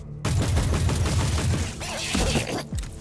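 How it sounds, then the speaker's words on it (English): An airstrike rains down on Nurglings in Warhammer 40,000: Inquisitor, a loud, dense barrage of rapid explosive bursts rumbling almost continuously before a brief lull near the end. "I'm gonna use the airstrike before we go. Airstrike on Nurglings."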